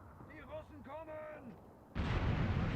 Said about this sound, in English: That looks like some heavy artillery as well from the Soviets